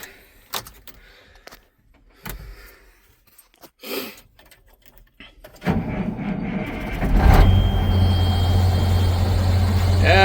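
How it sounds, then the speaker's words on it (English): An old farm tractor with worn belts cranks and catches after a few quiet knocks, then runs steadily as a thin, high belt squeal rises over the close engine noise. "Tractor's always got a belt squeal."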